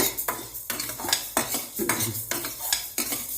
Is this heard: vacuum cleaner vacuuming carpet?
no